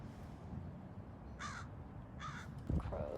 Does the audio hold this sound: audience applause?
no